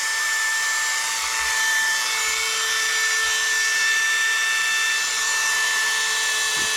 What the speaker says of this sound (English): this time we'll get them rough edges out of there with this sandpaper drum.